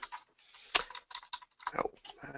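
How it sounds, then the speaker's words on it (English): Keys tapped on a computer keyboard while entering a search keyword, a short run of irregular, fairly close clicks with quiet gaps between bursts. "we can type in a keyword, or if we happen to know the name of something we're looking for, we can type in that name too"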